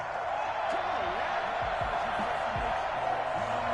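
Stadium crowd in the football video game Madden 21 reacting to a penalty flag, a steady, loud wash of crowd noise with scattered voices and whoops rising through it.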